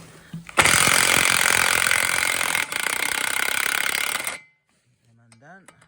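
Impact gun loosening bolts on a Vaderstad drill, a loud sustained rattling hammer burst of about four seconds at close range, then it stops and a voice is heard.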